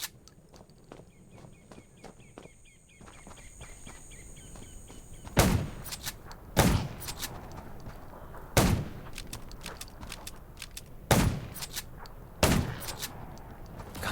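Gunfire in the zombie survival video game Undawn: five or six loud, sharp shots spaced a second or two apart, preceded by quieter footsteps and clicking game sounds.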